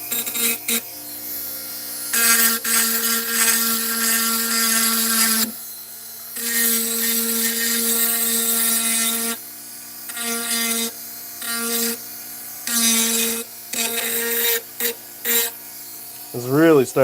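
Handheld Dremel rotary tool with a built-in headlight, grinding and carving on a workbench, a high whine in repeated bursts several seconds long that rises and falls in pitch, with short pauses between passes.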